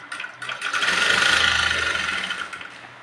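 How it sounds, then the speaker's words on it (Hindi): A sewing machine runs in one continuous burst, stitching the folded waistband of a patiala salwar, its fast mechanical whir close and loud, rising and then easing off. "पूरे पैंट पे इसी तरीके से गोल करते हुए सिलाई लगाना है"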